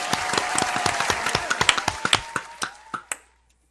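A short burst of sparse, small-group clapping for a podcast guest, sharp individual claps close by that thin out and stop after about three seconds.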